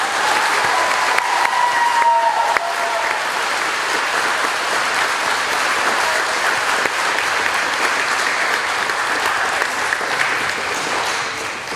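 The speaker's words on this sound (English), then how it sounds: "Please give them a round of applause." Sustained, loud applause from a graduation ceremony audience, many hands clapping together in a dense, even roar that holds steady for the full length.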